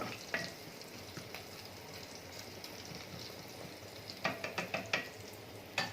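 Cumin seeds frying in oil for potato kees, giving a soft, steady sizzle with scattered sharp clicks and light knocks from a spatula near the end.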